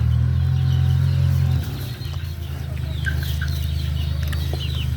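A Burmese fighting rooster clucks in several short, close calls over a steady low hum that drops partway through.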